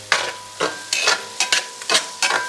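Garlic fries in a pan with onions and gets stirred in regular scraping strokes, about six close sizzling swishes of a utensil over steady frying.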